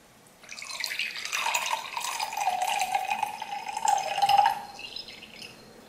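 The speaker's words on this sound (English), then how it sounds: "And now we're going to pour the water." Water poured from a height into an empty drinking glass, a steady trickling splash that rises in pitch as the glass fills over about four seconds, close and clear with no talk.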